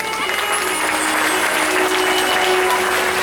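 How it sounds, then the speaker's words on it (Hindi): An audience at a Shrimad Bhagavat Katha religious discourse claps in sustained, dense applause, steady and loud throughout, with a faint tone running beneath. "इनके माता पिता के लिए जोरदार ताली बजाएं"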